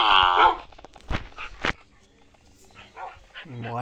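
Several dogs bark in the Minecraft video game: short, sharp yaps scattered across the clip, loud and close at first, then lighter, mixed with a few whimpers and someone talking.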